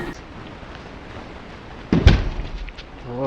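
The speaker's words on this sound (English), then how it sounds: "Listen how hard this guy's face bounces off this plate glass window" A single loud, sharp thud as a man's face slams into a plate glass window, sudden and close, followed by a brief rattling tail over steady background noise.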